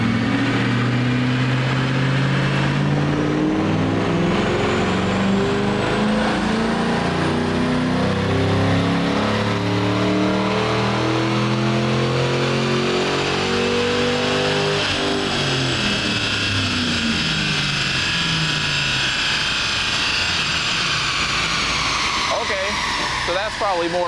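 A Ford Mustang GT V8 with no mufflers runs on a dyno, its loud, raw exhaust rising through a long, steady rev and then falling off near the end, heard alone and close.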